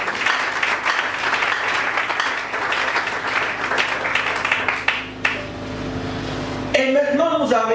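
A church congregation bursts into sustained, dense applause, loud and close, filling the room for several seconds before tapering off as a voice begins speaking at the end.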